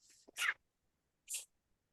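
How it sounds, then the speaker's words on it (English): Two quick, breathy bursts a second apart, a sharp sneeze followed by a smaller one, close by in otherwise quiet surroundings. "I just had a sneeze"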